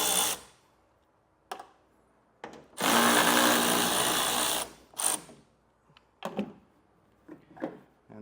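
A power driver fitted with an 8mm socket backs out two taillight screws on a 2024 vehicle: a steady, close, two-second whir, with scattered clicks and taps of tool and trim before and after.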